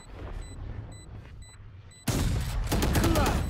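Gunfire from the tactical shooter game Valorant: a sudden loud burst of shots breaks in after a quiet stretch, followed by dense rapid firing and crackling impacts that carry on to the end.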